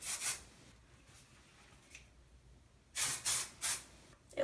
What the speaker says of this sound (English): It's like liquid texture. You just spray it up in here.